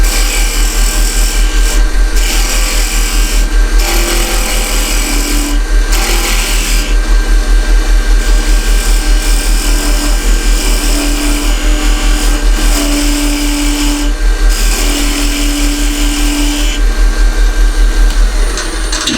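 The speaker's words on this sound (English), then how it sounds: "So I'm just using a parting tool for this." A parting tool cuts a tenon on a spinning wood lathe, making a loud, continuous scraping hiss over the steady hum of the motor. The cut is briefly interrupted a few times, close and dominant throughout.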